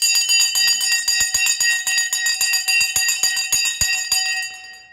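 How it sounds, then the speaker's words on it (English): A stock market opening bell rings loudly, a rapid continuous clatter of fast repeated strikes with a bright metallic ring that keeps going for several seconds before starting to fade. "Oh, the bell."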